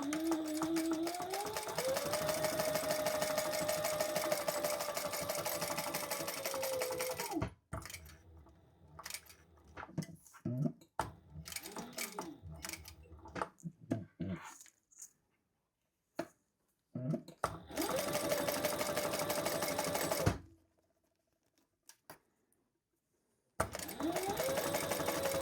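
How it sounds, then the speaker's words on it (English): A domestic sewing machine stitches down the sides of a crossbody bag in two sustained runs, close and steady, separated by quieter handling clicks, fabric rustles and brief silences. "we're going to stitch down each side"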